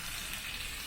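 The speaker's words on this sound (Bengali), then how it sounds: "তো দেখো এরকম আমি এবার ঢাকা দিয়ে অল্প আঁচে কষতে থাকবো" Chicken bhuna masala frying in a covered pan over low heat, giving a steady, close hiss and sizzle that runs unbroken and alone.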